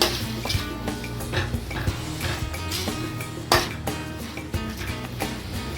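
A spoon scrapes and clinks against a pan while amchur powder is stirred into a masala for aloo kofta, with irregular metallic taps and scrapes, fairly close and loud.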